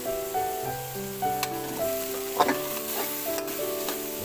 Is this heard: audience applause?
no